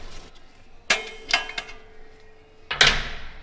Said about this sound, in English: Bang it off with a hammer.